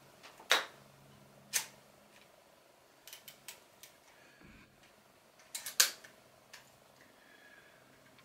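Several sharp mechanical clicks of a Praktica camera's cloth focal-plane shutter at slow speed, spaced irregularly with pauses between, some firing in quick pairs, fairly close in a quiet room.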